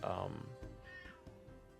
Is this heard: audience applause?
no